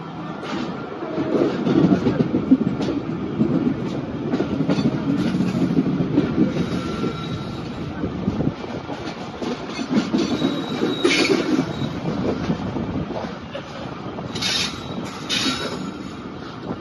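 A train runs along a railway track approaching Moradabad station, a loud continuous rumble with clattering wheels and occasional high metallic squeals, heard close by.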